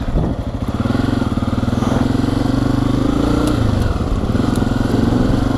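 Honda CRF250F trail bike being ridden, its single-cylinder engine thrumming loudly and steadily close by with slight rises and dips in revs and no pauses.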